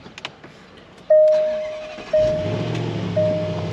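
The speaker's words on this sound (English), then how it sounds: "Little cold start." A Range Rover Sport with a freshly rebuilt engine cranks and fires on a cold start: brief ticks, then three loud surges as the engine catches and settles into a low, steady rumble, recorded close with no talking.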